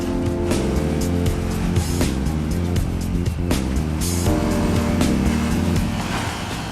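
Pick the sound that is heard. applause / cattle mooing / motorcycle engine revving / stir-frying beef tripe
motorcycle engine revving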